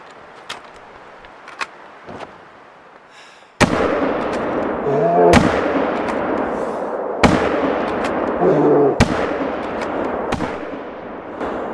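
Rifle shots are fired at a charging bear in TheHunter: Call of the Wild, several sharp, loud cracks several seconds apart, each trailing into a rumbling decay, with a few faint clicks before the first shot and no talk.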